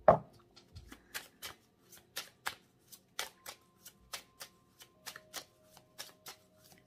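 A deck of tarot cards is shuffled by hand in a quiet room, with a series of crisp riffling bursts coming at a steady, unhurried rhythm, close and fairly soft.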